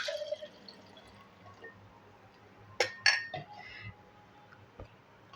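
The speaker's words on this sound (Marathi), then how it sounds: "याच्यात दूध घालून घेत आहे" Milk poured into a mixer jar for a mango milkshake, with faint clinks of the jar and a soft splashy pour, a couple of brighter clinks in the middle.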